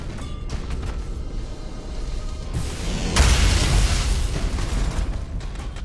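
Ship weapons firing and explosions in the space strategy game Battlefleet Gothic: Armada 2, heard as a continuous mix of rumbling booms and crackling blasts that swell into a louder burst partway through, with no speech.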